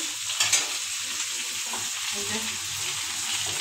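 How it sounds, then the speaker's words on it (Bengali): Potatoes frying and being stirred in spice paste for hilsa curry, a steady close hiss of sizzling oil with soft scraping strokes in the pan, heard alone. "আর এদিকে হচ্ছে মশলাটা কষাইয়া আমি আলুটা দিয়ে দিচ্ছি।"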